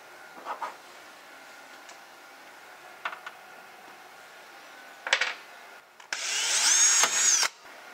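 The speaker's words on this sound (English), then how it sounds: "So we'll need to drill one more hole right around here." A power drill bores one more hole during a home network equipment install, with short bursts early on and then a loud sustained whine for about a second and a half near the end.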